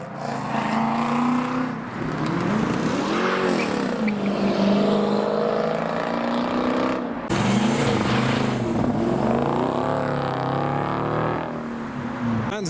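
A TVR sports car driving at a 90s car show, its engine rising and falling in pitch through two revving passes at close range, with a brief cut midway.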